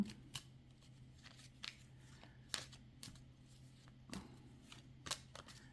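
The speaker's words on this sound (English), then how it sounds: "It's taking me a while to shuffle these cards, though" Tarot cards are shuffled quietly and repeatedly, with irregular soft riffles and snaps close by against a faint steady hum.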